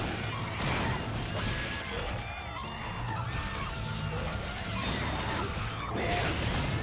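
A hammer smashes a Velociprey in the Monster Hunter Generations video game, loud crashing game impacts and squawking monster cries over a dense, busy battle soundscape with steady background music.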